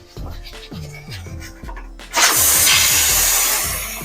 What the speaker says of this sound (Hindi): नीचे से फ्लेम करते हैं बंद, ऊपर से इसका सीटी उठाते हैं।